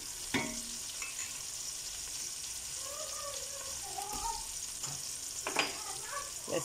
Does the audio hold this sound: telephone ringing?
no